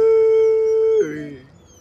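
A dog howls close and loud in one long, steady note for about a second, which then breaks into a lower, wavering whine that fades away. No other sound accompanies it.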